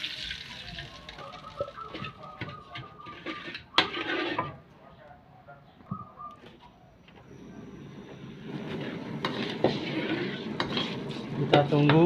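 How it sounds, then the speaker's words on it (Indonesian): Sizzling and stirring as shallot and garlic spice paste fries in a hot pan, with a spoon scraping and clinking against metal, bursts of frying hiss rising and falling. "setelah panas kita masukkan bumbu halusnya yang bawang merah sama bawang putih itu"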